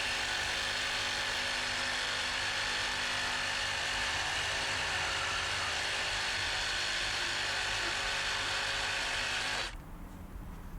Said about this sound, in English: I can cut out the valve from the manifold using my hacksaw